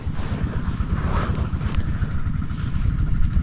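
Strong water gushing into a rice paddy, a steady broadband rush close by with wind buffeting the microphone throughout, no talk.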